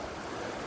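Creek water rushing steadily at a small creek crossing on the Ozark Highlands Trail, a continuous close, even wash of flowing water with no voices.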